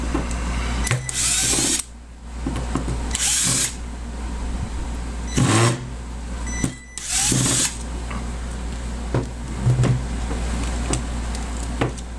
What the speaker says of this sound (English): So you want to pull these 3 screws out next.